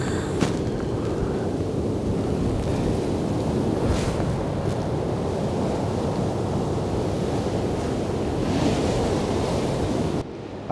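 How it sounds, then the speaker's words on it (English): Ocean surf surges steadily against a rocky shore, a loud continuous wash of breaking water with wind buffeting the microphone throughout and a brief drop near the end. "wave comes in and doesn't give me much room to get away"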